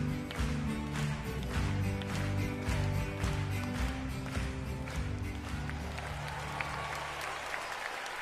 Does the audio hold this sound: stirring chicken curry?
no